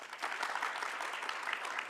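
A conference audience at a health forum claps in an unsynchronized, random patter, a steady dense wash of hand claps heard from within the hall with no speech.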